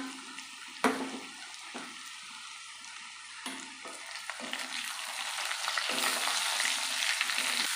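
Garlic paste and then onion paste hitting hot oil for a fish curry: sharp clatters as the pastes drop in, then a sizzle that swells and stays loud, with no talking.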